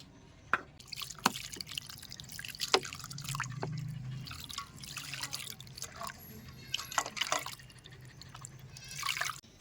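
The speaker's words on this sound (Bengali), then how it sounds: "এই যে আমি বরফের জলটা দিয়ে দিচ্ছি।" Ice water is poured over butter in a steel bowl for washing, heard as a soft, close trickle with intermittent drips and splashes, fairly quiet and with no talk.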